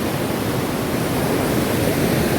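Water flows steadily and loudly at close range, making a continuous, even rushing sound with no talk over it.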